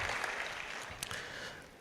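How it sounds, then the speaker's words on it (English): Applause from an audience at a World Environment Day event in Ogun State, a steady broad clatter of clapping across the short stretch, with a brief sharper burst near the middle before it gradually thins. "Please, a round of applause for"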